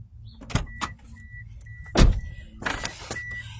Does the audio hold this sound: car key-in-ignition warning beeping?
yes